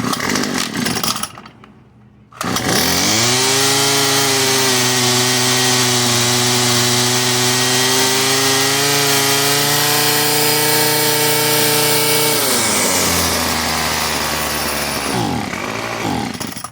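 A Craftsman WS210 gas string trimmer engine starts after a short silence and runs loud and close with a steady buzz, its pitch sagging and wavering as it bogs during carburetor adjustment, then dropping off near the end.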